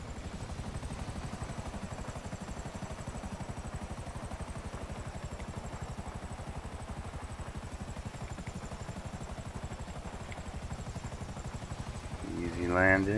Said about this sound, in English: Busted chopper.